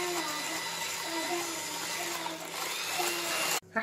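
An electric mixer whirs steadily as it beats cake batter thickened with oil, a continuous buzzing motor drone that cuts off abruptly near the end, with no talking.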